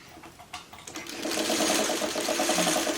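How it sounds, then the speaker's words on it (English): An old sewing machine sews a quilt block, starting with a few short clicks and stutters, then settling into a fast, steady rhythmic stitching hum that runs to the end. "These old machines, they sew so nicely."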